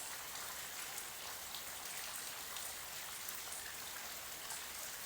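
Heavy rain falls all day in Nova Casa Verde, Mato Grosso do Sul, making a dense, constant hiss of downpour with no voices.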